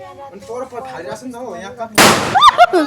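A sharp, loud firecracker bang bursts out during Tihar after a few seconds of chattering voices, followed by a crackling tail and more excited voices.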